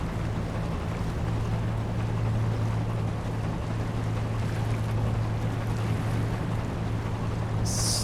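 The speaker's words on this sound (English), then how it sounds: "Nice little tug." Small tugboat moving through water in the Seafarer ship simulator game, a constant engine drone with a low steady hum beneath broadband wash of water and wind, unchanging throughout.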